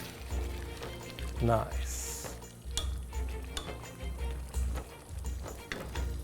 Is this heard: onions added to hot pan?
yes